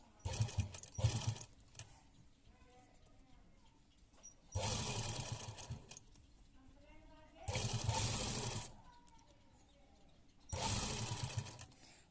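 A sewing machine stitches lace onto a round neckline in several loud bursts of steady whirring, each a second or two long, with a person talking quietly in the pauses between them.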